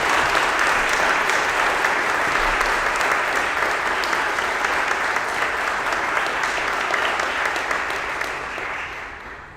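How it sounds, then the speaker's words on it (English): A school fine arts awards assembly audience applauds band award recipients, a full, loud round of clapping that holds steady for several seconds before tapering off at the end. "can we give all of our band award recipients a round of applause"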